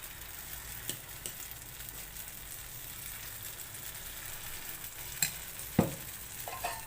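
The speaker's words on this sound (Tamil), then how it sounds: "இப்போ மாவு ஊற்று பண்ணிடுறோம்" Kuzhi paniyaram batter sizzles steadily and quietly in a hot paniyaram pan, a soft continuous frying hiss with a few small clicks and taps near the end.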